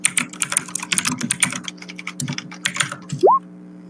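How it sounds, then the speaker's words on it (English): Fast, loud typing on a computer keyboard, a dense run of close key clicks and clacks with brief pauses, ending in a short rising squeak. "Am I typing as loud as Lux normally does?"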